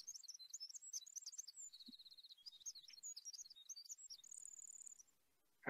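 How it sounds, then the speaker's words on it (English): Recorded wild bird song near an undeveloped Wisconsin lake plays alone: rapid, high chirping and trilling phrases run continuously for about five seconds, then stop abruptly. "The bird sings on the in-breath and on the out-breath."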